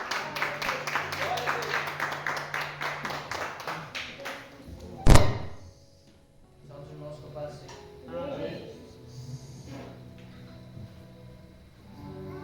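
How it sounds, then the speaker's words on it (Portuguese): A church congregation in Rio Negro, Paraná claps in a brisk rhythm for several seconds before fading. A heavy thump follows, then quieter singing and talk. "quem puder aplauda bem alegre o nome do Senhor Jesus"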